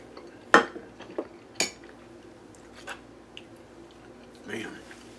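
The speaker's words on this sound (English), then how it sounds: "Scrape up this extra cheese here" A fork or knife scrapes leftover cheese off a plate, with a few sharp clinks and scrapes against a quiet background and short pauses between them.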